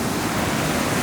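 Rushing water pours down a steep, hazardous waterfall beside a cliff edge, a dense, steady roar of broadband noise with no pauses, close and loud throughout, with no voices.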